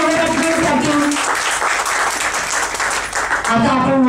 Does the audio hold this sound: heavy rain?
no